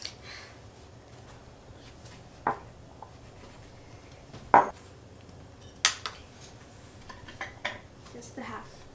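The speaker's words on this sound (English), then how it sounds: "Bella is going to cut and squeeze the lemon into the pot" A lemon cut and squeezed into a pot of blueberries in a home kitchen, with sparse clinks and knocks of a knife and utensils against the pot and counter, over a quiet room tone.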